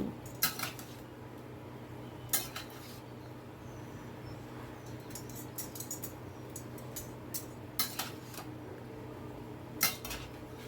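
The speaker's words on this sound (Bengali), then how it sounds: "আবার সব কিছু ভালো করে মিশিয়ে নিচ্ছি।" A vegetarian curry is stirred in a pan, the spoon clinking and scraping against the metal in scattered knocks over a quiet, low kitchen hum.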